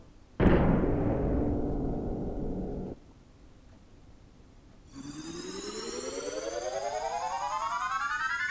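A booming cannon blast in Seiken Densetsu 2 (Secret of Mana) on Nintendo Switch rings out and rumbles away over a couple of seconds. After a short pause, a whistling tone rises steadily in pitch.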